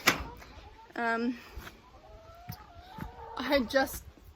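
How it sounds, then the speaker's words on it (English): A chicken clucks close by in a few short, throaty bursts, the loudest near the end, with quiet background noise. "I'm sorry about the chicken sound."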